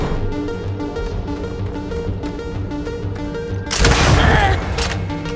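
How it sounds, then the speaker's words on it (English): A grenade launcher fires in the game Starfield, a sudden loud burst breaking over steady game music and ambience and trailing off in a noisy rumble. "So this is the grenade launcher of Starfield"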